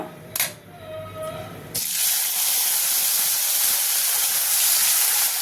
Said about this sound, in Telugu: ఇప్పుడు అదే కంచుల్లో ఒక స్పూన్ నూనె వేసి ఇప్పుడు టమాటా ముక్కలు ఫ్రై చేసుకుందాం